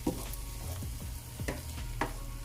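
Split pea stew with coconut cream cooking in a pot gives a steady sizzle and bubbling simmer, with a few soft stirring knocks, close and moderately loud with no talk.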